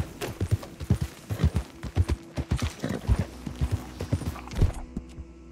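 Steady clip-clop of horse hooves at a walking pace in the video game Red Dead Redemption 2, regular thuds repeating close by with no talking.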